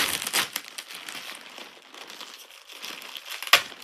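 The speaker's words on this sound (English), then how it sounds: "Just take the tape off." Tape peeled off plastic yarn packaging, a close crinkly rustle of plastic with a sharper tear near the end, fairly quiet and with no talk.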